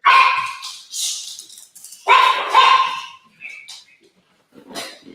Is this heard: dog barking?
yes